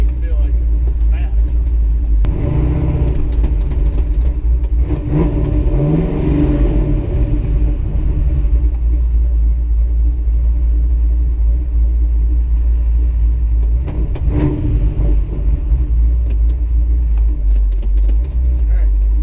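Station wagon engine at a drag strip, rumbling loud and steady with swells of revving, close and constant throughout, while people talk over it.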